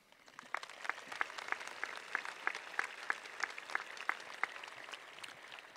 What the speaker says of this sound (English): Please join me in showing their dedication by giving them a round of applause